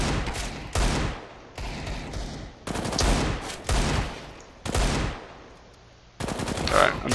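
Desert Eagle pistol fire in a Counter-Strike: Global Offensive match: several loud, sharp shot bursts in uneven groups, separated by brief quieter gaps of game ambience, with no talking.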